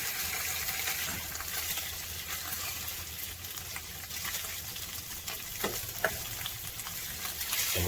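Steak, egg and cheese ingredients for a bagel breakfast sandwich frying on medium heat in a pan, a steady close sizzle and crackle with occasional sharper pops and scraping stirs, no voices.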